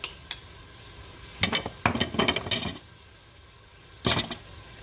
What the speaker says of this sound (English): cook this ground beef till it's good and brown